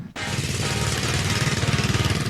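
A racing lawn mower engine roars steadily at close range in a competitive race, loud and continuous with a rapid throbbing pulse after an abrupt start.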